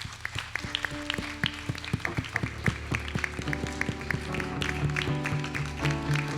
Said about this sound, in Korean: 우리 하나님께 감사의 박수를 마음으로 담아서 드립니다.